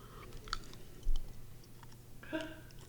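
Soft, close chewing of a piece of gum, a few moist clicks and bites at an uneven pace against a low hum, with no talking.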